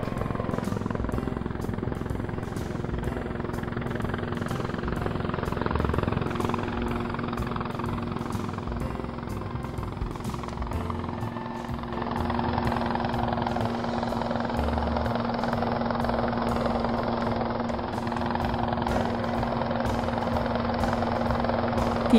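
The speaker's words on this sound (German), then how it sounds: "Der Laster ist befestigt, jetzt kann der Hubschrauber ihn in die Höhe heben." A cartoon transport helicopter hoists a truck over a river to a construction site, its steady rotor drone and engine rumble holding throughout with no talk.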